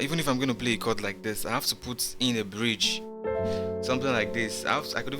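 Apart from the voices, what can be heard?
None of the usual background noises is heard.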